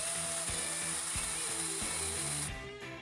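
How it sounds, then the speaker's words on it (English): A power drill whines steadily at close range while the bit grinds through wood in a series of rhythmic bursts, boring a 60mm hole, then the motor winds down. "Now drill a 60mm hole for the barrel."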